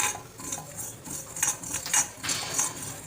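Black seeds and fenugreek seeds are dry-roasted in a pan without oil, stirred with a utensil in a steady run of scraping, rattling taps and light clinks against the metal, fairly close and moderately loud.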